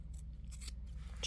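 Scissors trimming the paw hair of a labradoodle during grooming, with a few quick snipping bursts close up over a steady low hum.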